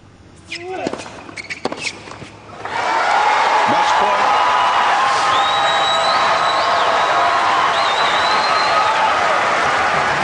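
A tennis crowd at the Australian Open bursts into loud cheering and applause after a few scattered claps and whoops, then holds a dense, continuous roar with whistles and shouts to the end.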